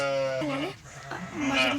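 A black-and-white male lamb bleats twice, a wavering high cry near the microphone, with a short pause between the calls.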